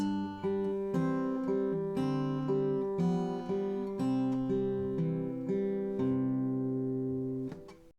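Classical guitar plays Sor's Op. 35 No. 13, a steady picked pattern with melody notes ringing over a sustained drone note, clear and close with no voices.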